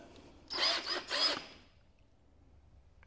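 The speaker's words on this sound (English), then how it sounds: "I use a drill" A cordless drill fitted with a paint stirrer mixes sugar for soft sugar bricks, three short close whirring bursts in quick succession, then quiet.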